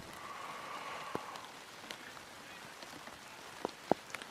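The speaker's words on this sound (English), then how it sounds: "rain's pouring down on them" Rain falls on a college baseball field during a game: a faint, steady patter with a few sharper drops landing now and then, and no voices.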